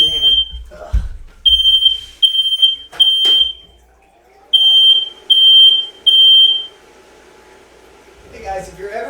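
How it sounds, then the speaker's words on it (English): An apartment smoke detector mounted right beside a kitchen oven sounds its alarm: loud, piercing high beeps in a quick repeating burst pattern, broken by short gaps, with faint background noise and a brief rustle at the end. "if you're ever building an apartment building, don't put the smoke detector right next to the oven so people are unable to cook"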